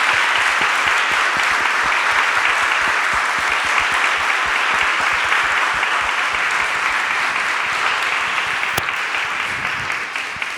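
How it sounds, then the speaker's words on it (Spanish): An audience claps steadily and loudly at a museum talk, a dense sustained applause that fades slightly toward the end, with no speech over it. "así que un aplauso de nuevo, por favor, a Elvira Espejo."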